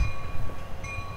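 A CSX freight train leaves a siding in northeastern Maryland, a close, steady rumble of rolling rail cars with a faint sustained horn-like tone above, continuous and fairly loud.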